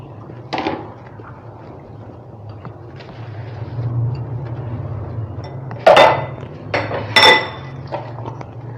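Dishes, pots and pans are washed by hand in a home kitchen, with scattered metallic clinks and clanks of utensils and vessels over a low running hum, a few louder clatters standing out.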